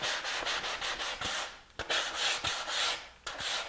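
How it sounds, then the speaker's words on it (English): A sanding block made from a straight edge with sandpaper rubbing back and forth over a workpiece for a Mini Cooper logo sign, rhythmic close scratchy strokes in quick succession, no speech. "I'm going to take this sander, and it's just a straight edge with sandpaper on it"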